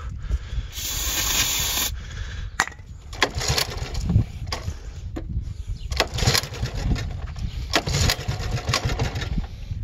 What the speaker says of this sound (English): I just sprayed a little ether in it and pulled it, and it started right up